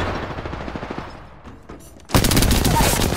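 Gunfire from the Apex Legends video game: a steady, dense rattle of rapid shots runs throughout, quieter at first, then suddenly louder and fuller near the end, with faint voices underneath.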